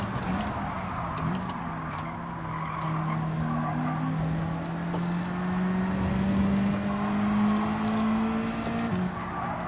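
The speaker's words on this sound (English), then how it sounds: "I'm gonna rev it out when I can" A race car engine in Gran Turismo 7 holds a high, steady drone that slowly rises in pitch as it is revved out, with some tire noise underneath.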